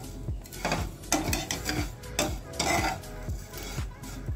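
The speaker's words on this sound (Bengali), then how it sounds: "সিমাইগুলো আমি হালকা লাল লাল করে ভেজে নেব।" Vermicelli (shemai) frying in ghee in a pan, with repeated close scraping and clinking of a spoon stirring against the metal in an uneven rhythm over a soft sizzle.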